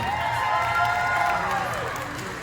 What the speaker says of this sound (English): Have another round of applause for our lovely judges sitting up at the front.